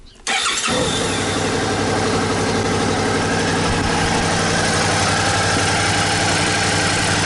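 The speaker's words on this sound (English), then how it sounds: "kill switch, hazard flashers, and Suzuki's one touch quick start" A Suzuki V-Strom motorcycle with a 90-degree V-twin engine fires up via one-touch quick start after a brief silence, then settles into a loud, steady idle close by with no talking.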